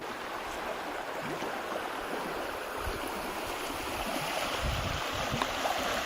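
Whitewater rapids rush and churn around a canoe running Camel Rips on the Moose River, a steady, broad roar of moving water close by with no voices.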